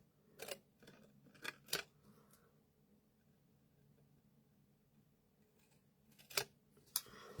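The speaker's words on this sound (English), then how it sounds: "I'm just gonna cut that bit a little bit more" Scissors snip through card while a box card is being made, a few crisp close cuts in two clusters separated by a quiet pause, with no talking.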